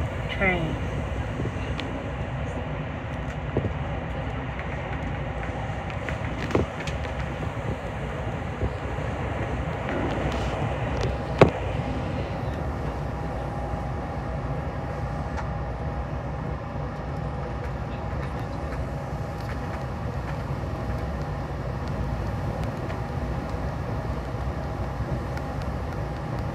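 Near Martinez, California, a train passes on the line toward Davis and Sacramento, giving a long, even rumble with a few sharp metallic clanks partway through and speech occasionally over it.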